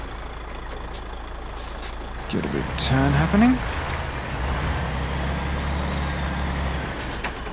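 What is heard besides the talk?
truck beeping and air brakes in the video game Mudrunner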